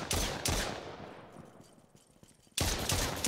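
Bursts of gunfire from AI enemies in a tactical PC FPS game, loud close volleys at the start and again near the end, with a quieter decaying gap of scattered shots between.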